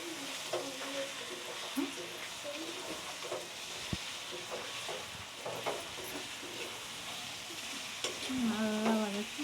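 Fish coated with pepper, cumin and chili powder sizzles steadily in a pan while being stirred, close and continuous, with occasional scraping and a voice briefly audible near the end.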